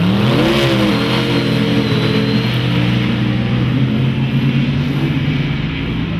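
Motorcycles pull away under a police motorcycle escort, engines revving loudly and rising in pitch as they go, with several bikes overlapping into a continuous close roar.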